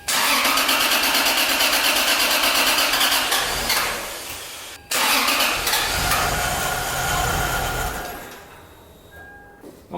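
Toyota 2JZ engine in a Lexus IS300 cranking and catching, loud and close, a brief stumble after a few seconds, then restarting into a rough idle that settles and fades.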